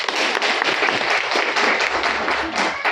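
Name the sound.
audience clapping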